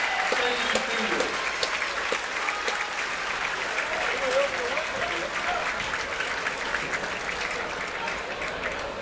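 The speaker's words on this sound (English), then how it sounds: "Let's have another round of applause for all of our seniors" Sustained applause from an audience at a boys JV basketball senior night, steady dense clapping filling the gym for the whole stretch with a faint crowd murmur underneath.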